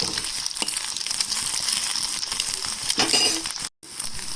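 Garlic chili masala and egg sizzle and fry in a pan, a steady crackling hiss with occasional clinks of a stirring utensil against the metal.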